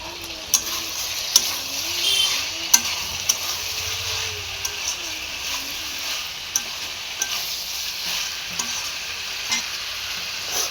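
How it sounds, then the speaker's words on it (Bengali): Chicken kosha sizzles steadily in a pan while a utensil scrapes and stirs through it with occasional sharp clicks, set against a faint background hum. "আর ওইদিকে তো চিকেন কষাটা হচ্ছে।"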